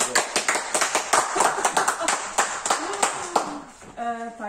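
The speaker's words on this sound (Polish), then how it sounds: "I tu brawa!" Audience applause at a Polish religious song festival awards ceremony as the Grand Prix is announced: dense clapping from a crowd with a voice and some music over it, easing off toward the end.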